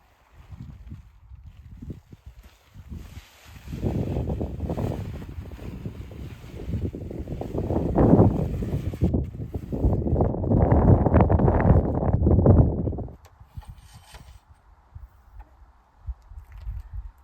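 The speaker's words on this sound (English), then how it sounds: "The wind is on and off, but it's mainly down in the canyon" Strong wind gusting down in a canyon at a truck campsite, loud blustery roar rising and falling in waves over several seconds, with lulls between the buffeting bursts.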